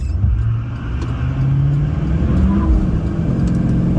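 A 2009 Duramax LMM diesel pickup tows a load while accelerating hard from 0 to 60, its engine roaring loud and close with a rising drone that holds steady throughout, with no talk over it.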